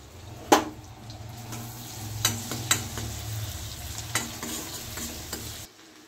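Chopped garlic and ginger sizzle steadily in hot oil for momo filling, with a few sharp clinks of a spatula against the pan and a continuous frying hiss that cuts off near the end.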